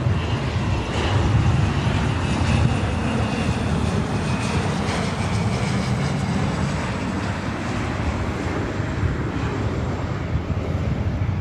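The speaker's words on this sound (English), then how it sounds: "This is our fourth or fifth 767 heading to JFK." A Boeing 767 departing LAX for New York JFK gives off a sustained, fairly loud engine roar with a low rumble, unbroken and without talk.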